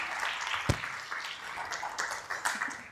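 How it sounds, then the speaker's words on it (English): An audience applauds to welcome someone speaker onto the stage at a talk event, with dense, steady clapping running throughout and one sharper clap standing out. "a round of applause to welcome her"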